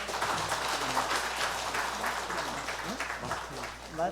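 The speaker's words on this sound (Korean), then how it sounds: "박수로 해 주시기 바랍니다." A church congregation claps to welcome a missionary up to speak at a Sunday morning service, moderate steady applause with a few murmuring voices underneath.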